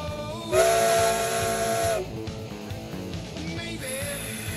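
A steam locomotive whistle blows one long chord-like blast, followed by a quieter hiss and a second brief toot, close by.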